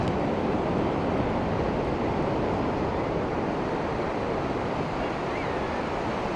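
Pacific Ocean surf at a San Francisco surfing beach roars continuously and loudly, a dense wash of breaking waves with some wind buffeting the microphone and no talking.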